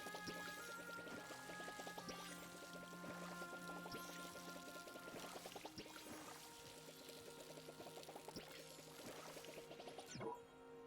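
Watering plants in the video game Palia, a soft, continuous splashing pour of water against a light musical background with no talking.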